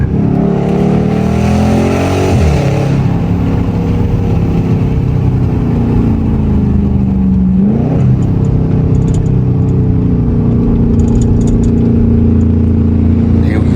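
A Dodge Charger or Challenger Scat Pack V8 at night, engine roaring loudly and close with rising revs as it accelerates, pitch sweeping up and dropping through gear shifts, continuous and dominant throughout.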